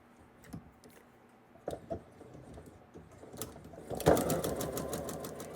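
A sewing machine stitches pinwheel quilt units for a tree block, starting with scattered clicks and short bursts, then settling into a louder, steady mechanical whirr over the last second or so, close and alone without talk.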